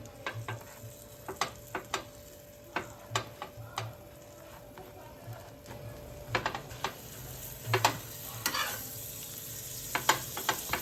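Pav buns toast in butter on a pan for vada pav, a faint low sizzle under a string of sharp, irregular taps and clicks as a spatula touches the pan; no talking.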